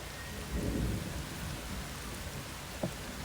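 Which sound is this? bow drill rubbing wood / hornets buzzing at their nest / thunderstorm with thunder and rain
thunderstorm with thunder and rain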